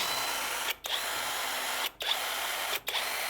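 A cordless Tanzu impact wrench, just reassembled after a gearbox cover was bolted back on, runs in a steady high whir with three brief pauses between bursts, close and clear with no talk.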